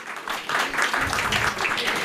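Historical society meeting audience giving a short round of applause, a dense, moderately loud wash of clapping filling the room.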